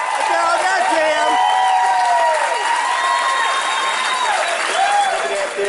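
Large crowd at a baseball playoff game roaring and cheering continuously, loud and sustained with shouts and whoops rising over the din, while an announcer talks over it.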